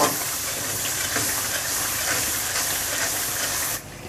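A quarter cup of water hits a hot pan of salt and chili while cooking potato with fenugreek, erupting in a loud, steady steamy hiss that holds for nearly four seconds before cutting off sharply.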